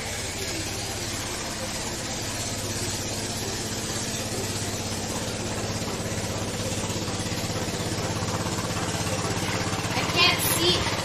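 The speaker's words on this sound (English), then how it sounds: "Do you hear the riverboat?" A small traditional riverboat engine in Thailand drones steadily with a low, continuous hum throughout, under crowd noise and talking voices, with no break in the running sound.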